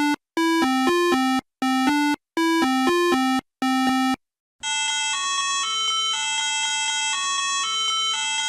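A toy New York mini police car siren plays: short bursts of electronic wailing tones separated by gaps, then a steady warbling electronic melody, loud and close with nothing else around it.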